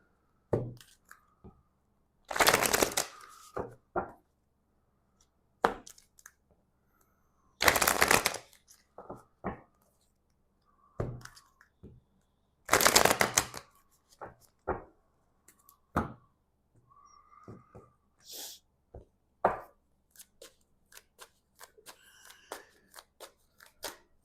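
Oracle cards being shuffled in several loud riffling bursts, separated by quieter taps, flicks and card handling, with no talking.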